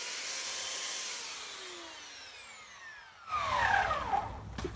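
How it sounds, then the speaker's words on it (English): A belt sander works across a wooden rear floor mat for a Volkswagen Beetle, a steady whining grind that fades slightly, then swells louder and rougher near the end as the sanding bears down harder. "now I'm just gonna take the belt sander to this"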